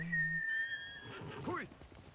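A horse whinnies once in the Ghost of Tsushima video game, a short high-pitched neigh that wavers and drops, clear and fairly close, followed by a brief snort.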